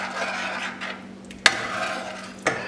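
A spoon scrapes and stirs through creamy chicken curry with crumbled kasuri methi, soft rubbing strokes broken by two sharp clicks of metal against the pan, quiet and close under a steady background hum.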